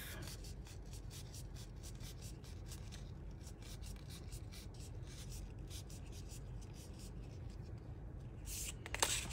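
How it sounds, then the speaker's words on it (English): A long strip of paper is folded in half and creased by hand for a journal storage holder: a continuous soft rubbing and scraping with faint papery ticks, close and quiet, without speech. "And then fold it in half."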